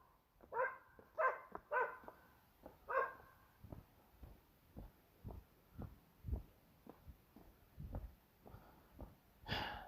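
A dog barks repeatedly in short, gruff bursts with a few higher, sharper barks, fairly close and without talk.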